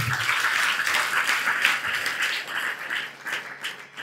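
Audience applause fills a religious Shiva katha discourse gathering in Yadur, a dense, steady wash of many hands clapping loudly and continuously throughout, with no voices over it.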